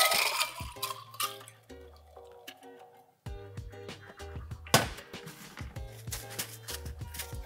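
Kumquat vodka cocktail poured from a shaker into a Pilsner glass: a liquid splash with clinks of ice and glass, in short bursts and pauses, over faint tonal background sound.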